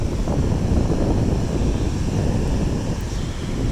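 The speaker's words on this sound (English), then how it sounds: "so the waves kind of roll in" Waves roll in on a flat beach in Morocco, a continuous loud rushing wash mixed with wind buffeting the microphone, steady throughout.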